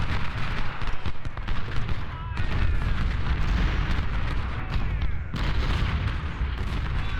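Battlefield din from the Civil War strategy game Ultimate General: Civil War at Malvern Hill, with loud, continuous booming artillery and crackling rifle volleys layered densely for several seconds, briefly dipping before surging again.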